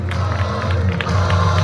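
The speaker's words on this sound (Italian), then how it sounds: "accogliamo con un applauso Marco Rumpola, Sergio Raccuia" Audience applause and cheering rise from a crowd at a rally podium award ceremony in a city square, a steady, dense patter of clapping that swells slightly toward the end.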